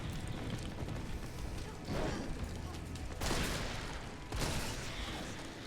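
In the Resident Evil 3 Remake video game, three separate bursts of gunfire ring out, evenly spaced over several seconds, above a constant layer of game ambience.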